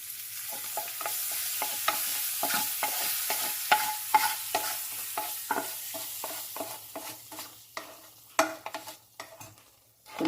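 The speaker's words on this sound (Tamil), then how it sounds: "கருவேப்பிலை போட்டுடலாம்." Curry leaves sizzle in tempering oil for green gram dal, a bright crackling fry with many quick spatters and pops, close by and growing sparser toward the end.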